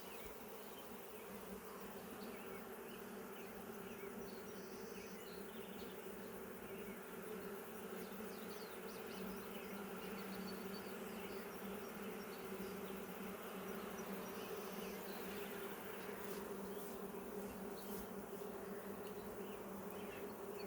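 A noisy beehive full of honeybees, a dense steady drone of buzzing that holds evenly throughout, close and continuous with no talk.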